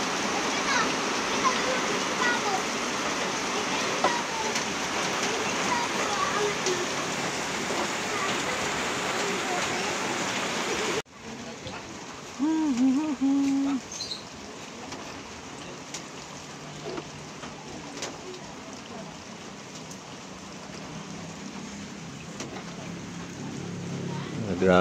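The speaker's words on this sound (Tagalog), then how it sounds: "Sobrang lakas ng ulan" Heavy rain pours down outdoors in a loud, dense, continuous roar. It turns suddenly thinner and quieter partway through, with spattering drops and faint sounds around, and no voices.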